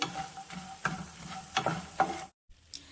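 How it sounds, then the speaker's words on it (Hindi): A cup of fox nuts (makhana) roasting in leftover ghee over a low flame: soft, steady sizzling broken by rhythmic scraping stir strokes, then a brief silence before one more stir. "बचे हुए घी में हम 1 कप मखाना डालेंगे। मखाने को भी धीमी गैस पर भून लेना है।"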